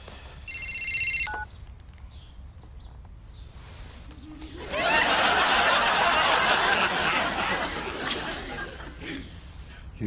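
A telephone in a Scottish sitcom gives a short electronic ring at the start, then falls quiet. Louder background chatter and laughter follow.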